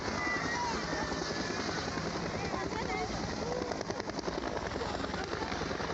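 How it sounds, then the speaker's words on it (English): Two Kenya Defence Forces military helicopters land inside a stadium during a Nairobi airshow, their rotors a steady, loud, continuous thudding whir with crowd noise underneath. "presented themselves with the two choppers landing in between the stadium"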